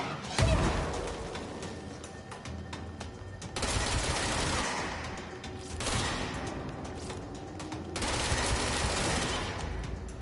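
Enemy gunfire in the video game Control, with dense bursts of shots and heavy rattling at close range that keep flaring up in waves across the whole stretch, with no talking.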